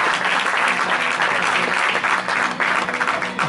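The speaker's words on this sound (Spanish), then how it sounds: "Pues un aplauso a la categoría" Spectators at a Spanish national bodybuilding championship in Parla applaud the masters over-40 category, a loud, dense wash of clapping from a large crowd that stays strong and steady throughout.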